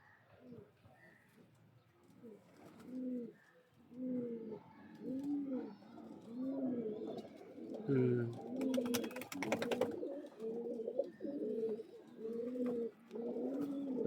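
Pigeons coo in a steady run of soft repeated phrases, close by, with a female bird among them and someone talking over the calls.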